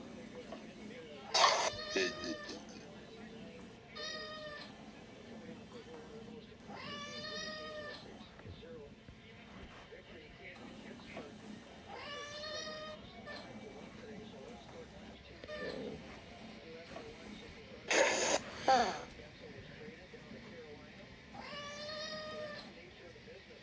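A cat meows repeatedly in separate, drawn-out calls, several clear and moderately close, spaced irregularly over a steady low background hum, with a few brief sharper sounds in between.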